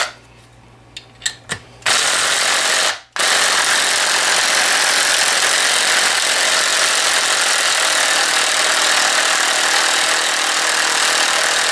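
An Evinrude 25 HP outboard motor starts after a few short clanks and knocks, cuts out briefly, then runs loud and steady at a constant idle-like drone without anyone talking.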